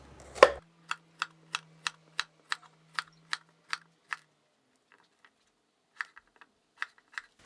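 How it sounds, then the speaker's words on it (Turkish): A knife chops zucchini steadily on a cutting board, about a dozen evenly spaced crisp taps, then a pause and a few more scattered chops. "kabaklarımızı şöyle kalın olmayacak şekilde doğrayalım"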